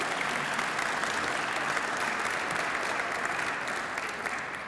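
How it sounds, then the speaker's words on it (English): Sustained audience applause fills a hall at a Roman gala award ceremony at the Embassy of Italy, a steady wash of many hands clapping, even in level and slowly fading near the end. "Thank you so much for your generous applause."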